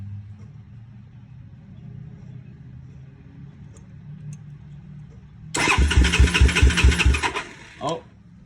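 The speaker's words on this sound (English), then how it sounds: "And this is how the bike starts." A Honda 400EX quad bike engine cranks briefly and fires up with a loud, chugging, rhythmic burst that fades quickly, coming after a stretch of quiet low rumbling and handling noise.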